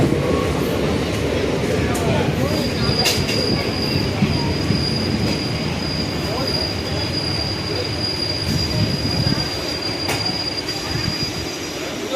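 A passenger train runs on rails near Tiruchirappalli, with a continuous heavy rumble of wheels and carriages and a thin, high wheel squeal that holds through most of the stretch, heard from on board.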